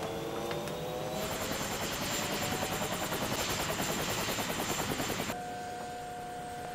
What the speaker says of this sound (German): Der Hubschrauber hat viel Krach gemacht.